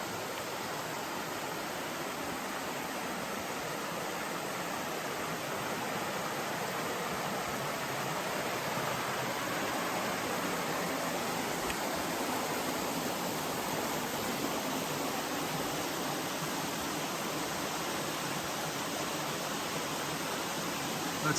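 Steady broadband rush of a river flowing beside a rocky trail near Laurel Falls, a continuous close wash of water with no breaks and no voices.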